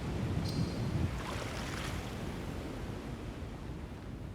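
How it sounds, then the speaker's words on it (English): A waterfall in the video game Satisfactory rushes as a steady, broadband wash of falling water that stays even throughout, with no talking over it. "So there's a waterfall here."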